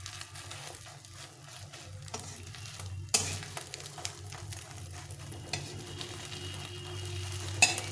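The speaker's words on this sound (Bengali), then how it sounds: "বাকি ডিমটাকেও এভাবে ভেজে নেব।" Egg omelette frying in a pan with little oil, a steady sizzle broken by spatula scrapes and a few sharp clinks, close and alone without talk.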